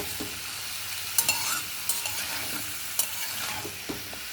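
Ridge gourd fries in a pan as it starts releasing water, with a soft, steady sizzle broken by several sharp scraping stirs of a spatula, close and alone.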